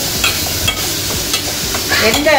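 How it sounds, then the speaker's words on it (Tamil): Drumstick leaves being stirred in a hot pan as they fry, loud continuous sizzling with repeated scraping stirs, close up with no talk. "அதையும் போட்டு நம்ம நல்லா கிண்டி விட்டுருவோம்."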